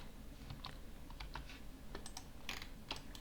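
Fingers type on a computer keyboard during Revit building modelling work, giving a quiet, irregular patter of light key clicks over a soft background hiss.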